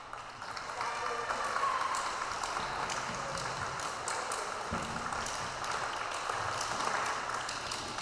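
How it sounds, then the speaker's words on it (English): Sustained applause from a school concert audience at a junior high band and choir fall concert, a steady broadband wash of many hands clapping that holds for several seconds with a few sharper claps on top. "So give yourselves a round of applause."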